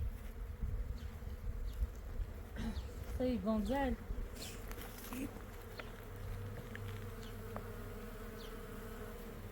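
A bee or wasp hums in a steady, close buzz, with a voice speaking briefly partway through over the low, continuous drone.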